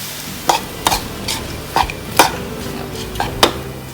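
Field rat meat being stir-fried in a pan over a charcoal stove, with a spatula scraping and knocking the pan every half second or so over a steady background sizzle, close and fairly loud.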